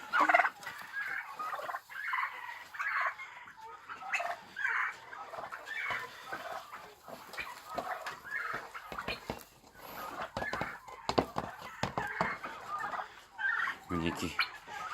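A flock of about forty farm-raised turkeys gobbles repeatedly in bursts at close range, the rattling calls overlapping in an uneven rhythm with brief quieter gaps between rounds.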